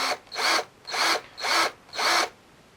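Wire being spun with pliers to twist a coil, heard as five evenly spaced whirring bursts of a small tool, close and fairly quiet.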